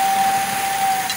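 A 2018 Fiat Argo engine with a warped valve runs with a steady broadband mechanical noise and a thin, constant high whine throughout, close and fairly loud.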